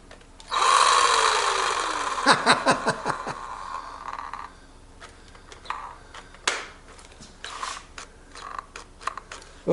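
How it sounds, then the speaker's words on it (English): A Craftsman 19.2V cordless saw on a revived battery whirs up briefly, then stutters through a few rapid bursts before falling to scattered clicks and knocks. "these saws really use up a lot of battery"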